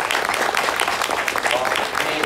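An audience applauds a woman named Penny at a team leadership training event, a dense wash of clapping under a voice.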